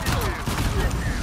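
Gunfire in the video game Uncharted 4 rattles in a dense, continuous volley of shots, loud and close, with a voice partly under it.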